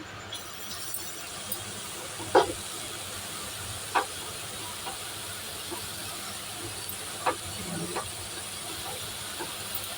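Chopped onion frying in a little butter in a pan gives a steady, soft hiss with a few brief crackles and pops scattered through it, heard close up and without speech.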